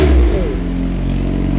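A modified Honda Civic with a loud aftermarket exhaust and manual gearbox gives a brief, close, throaty rev that settles into a steady rumbling idle.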